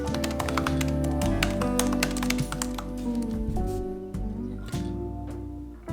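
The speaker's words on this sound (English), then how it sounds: "so I'm just gonna tippity tap type away." Rapid light tapping on a computer keyboard continues steadily under a layer of tonal background music.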